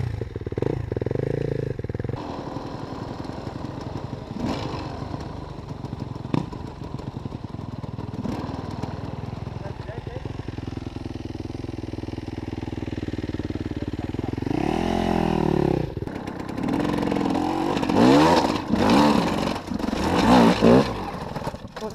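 An enduro motorcycle engine idles and revs during hard enduro training, with bursts of acceleration and rattling clatter, rising louder toward the end.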